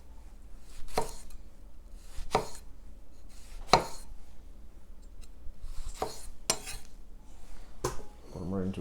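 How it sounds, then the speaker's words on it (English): A knife cutting tomatoes into thin wedges on a cutting board, with single sharp chops spaced about a second or more apart, close and clear over quiet kitchen background. "I'm just going to take them and cut them into wedges. Pretty thin wedges."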